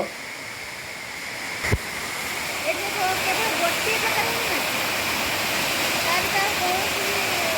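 Amakunda waterfall in Malkangiri roars steadily and close by, a dense, unbroken rush of water, with faint voices barely audible beneath it.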